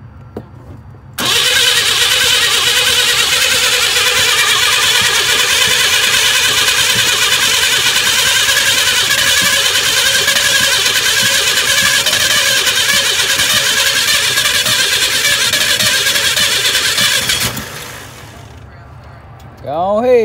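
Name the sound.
truck engine cranking and starting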